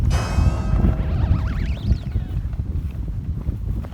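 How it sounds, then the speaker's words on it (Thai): Strong wind gusts across a hilltop campsite at Doi Mae Tho in Saraburi, Thailand, strong enough to snap tent poles; a loud, continuous buffeting roar fills the microphone, with thin whistling tones early on. "ลมแรงมากครับ"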